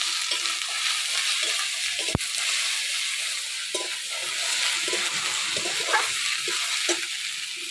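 Chopped bottle gourd pieces sizzle and fry in a pan in a village kitchen, a steady loud hiss with occasional stirring scrapes and one sharp clink partway through.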